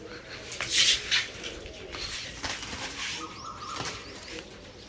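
Pigeons at a home loft, including newly flown birds, make soft cooing calls and brief bursts of wing flapping near the start, with the sounds fairly close and moderately loud.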